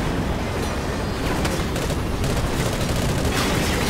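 Gunfire and explosions in the video game Call of Duty: Ghosts, a loud continuous barrage of heavy booming blasts with rapid shots layered on top, dense and unbroken.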